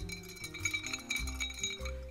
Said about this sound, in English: Place 2 ice cubes in the glass and continue stirring until chilled.